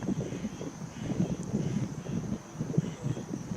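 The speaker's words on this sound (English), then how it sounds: "It's a little windy, a little breeze, a little shake." Gusty wind buffets the microphone atop an observation tower with low, uneven rumbles that swell and fade over a few seconds, no voices present.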